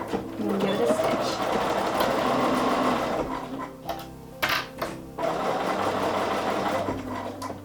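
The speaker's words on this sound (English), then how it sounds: "we're gonna put it in our machine and get it right on that 1/4 inch seam line and give it a stitch" A sewing machine runs steadily, stitching a quarter-inch seam on a pieced sampler quilt, with its motor hum pausing briefly midway before resuming; a voice talks quietly beneath the machine.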